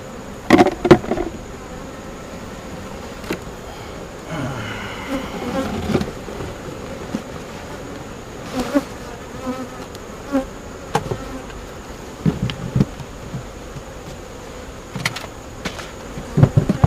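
Steady buzzing of many honeybees in a hive fills the background throughout, with occasional knocks and handling noises close by.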